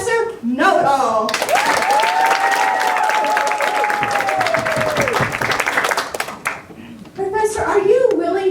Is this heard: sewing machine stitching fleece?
no